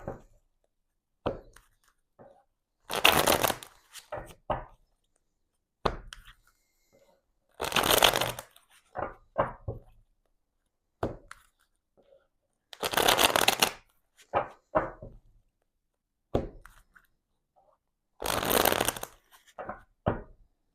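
Tarot cards being shuffled in repeated bursts of riffling, four loud rustling shuffles spaced a few seconds apart with softer card handling and taps between them, close and clear with no talking.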